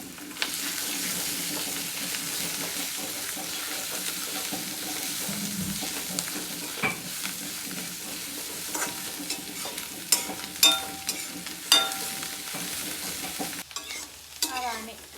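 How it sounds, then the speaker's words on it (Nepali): Mushrooms stir-fried in a pan: a steady sizzle with repeated scraping and clacking of a utensil against the pan, louder knocks toward the end, then a brief running-water sound. "यसमा च्याउ हालेर भोट्दिउँ।"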